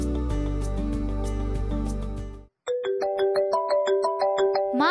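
A mobile phone rings loudly, first with a dense sustained ringtone, then after a short gap a bright repeating melodic chime, with no talk over it.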